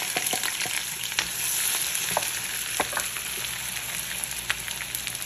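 Onions sizzle in a hot pan as the base for a Cuban beef vegetable soup, a steady close frying hiss with scattered crackles and a few stirring clicks, no voices.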